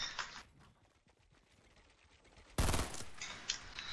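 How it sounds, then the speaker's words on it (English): Fortnite gunfire crackles: a faint burst of shots, then a sudden loud blast followed by rapid popping reports, with no one speaking. "I heard that gunfire."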